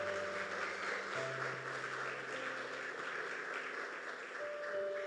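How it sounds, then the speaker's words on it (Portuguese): A church congregation applauds during a Portuguese sermon, a fairly faint, steady patter of many hands with sustained organ-like tones underneath. "Aplaude a Jesus, irmão!"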